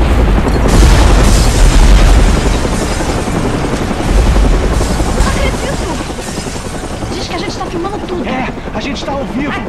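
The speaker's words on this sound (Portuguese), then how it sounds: "Tudo indica que o Batman foi jogado para longe do prédio após a explosão e agora tá se segurando na parte de baixo do nosso helicóptero." A helicopter and explosion in the Batman: Arkham Origins video game, a loud rotor-like rumble with booming bursts early on, fading slightly as a voice talks over it.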